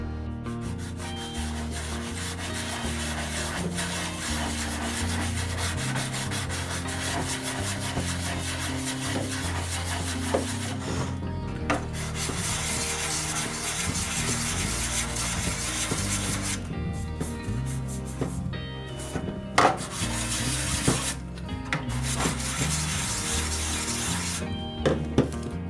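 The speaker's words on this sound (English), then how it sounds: "when I went to sand it" Sandpaper rubs dried putty on a GI Joe toy Jeep, a close, continuous scratchy rasp in quick back-and-forth strokes with brief pauses and occasional light knocks, no voices.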